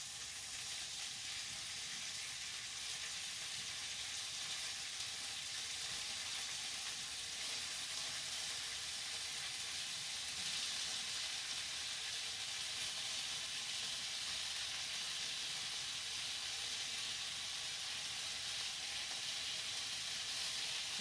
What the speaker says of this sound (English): Sizzle of meat sizzling.